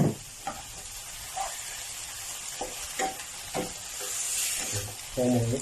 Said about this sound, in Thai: พอเริ่มหอมก็ใส่หมูสับลงไปให้สุด